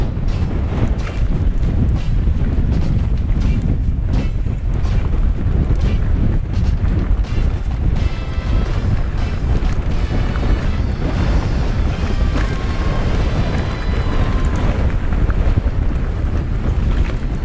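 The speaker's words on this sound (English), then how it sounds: "The wind's kind of dying down a bit." Strong wind roars across the microphone without a break during a mountain bike ride on an Orbea Rise H15 in the Black Mountains. The gusty buffeting fills the whole stretch and drowns out everything else.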